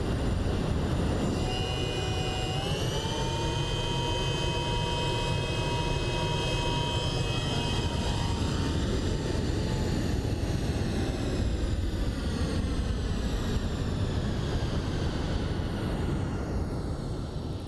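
A cargo MD-11F jet landing in the X-Plane 12 flight simulator at Memphis, with a steady roar of engines and whining turbine tones that slowly drop in pitch as it rolls out, continuous and loud with no talking.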